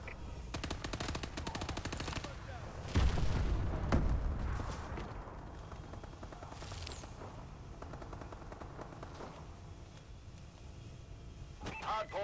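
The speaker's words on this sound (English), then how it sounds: "Enemy missile strikes." Enemy missile strikes in a Call of Duty Hardpoint match, a heavy booming explosion landing amid rapid machine-gun fire and steady battle noise that continues throughout.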